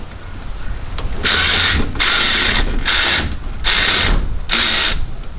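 A ratchet loosens a bolt on a Toyota Hilux alternator in bursts of rapid clicking, five loud close runs of ratcheting separated by brief pauses.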